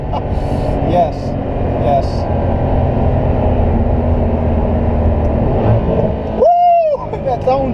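A Mercedes-AMG sedan, either a CLA45 or a C63, roars from inside the cabin as it accelerates steadily, and near the end a sharp downshift blip cuts in loudly.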